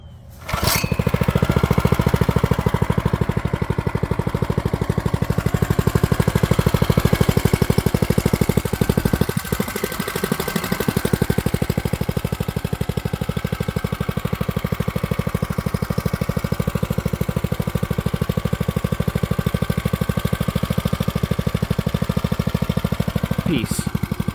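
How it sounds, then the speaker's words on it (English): A budget mini bike's small engine runs steadily for the whole stretch, a loud close buzzing drone with rapid pulsing firing, briefly dipping around the middle before settling back to its even idle. "Leave you guys with the sound of this mini bike."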